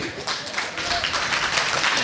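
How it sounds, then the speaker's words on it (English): Audience applauding as a young speaker walks up to the stage at a talk, steady broadband clapping from a crowd filling the room for about two seconds. "They're clapping because you're walking"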